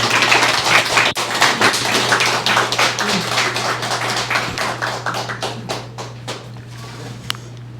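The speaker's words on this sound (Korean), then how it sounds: "뜨거운 박수 한번 부탁드립니다." Scattered clapping from a small lecture audience, individual claps audible, steadily thinning out over several seconds against a low steady hum.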